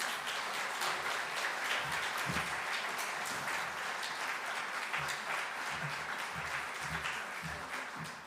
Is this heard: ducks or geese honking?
no